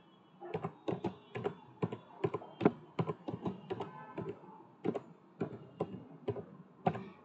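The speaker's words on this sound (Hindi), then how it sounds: "जैसे मैं यहाँ पे टाइप कर लेती हूँ" Keys on a computer keyboard are typed in quick, uneven clusters of crisp clicks and taps, close and fairly quiet, with short pauses between bursts and no talk.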